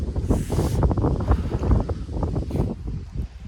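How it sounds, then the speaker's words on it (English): Strong outdoor wind in the Swiss Alps buffets the microphone in gusty low rumbles with an airy rush, loud and close, with no talking. "there's some good wind out here"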